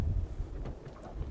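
Wind buffeting a microphone while jig fishing with light line from a boat near a bank, a steady low rumble throughout with no talk.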